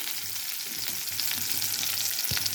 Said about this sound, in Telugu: ఉల్లిపాయ కరివేపాకు వేసి కలిపి ఇప్పుడు దొండకాయ ముక్కలు కూడా వేసేస్తున్నాను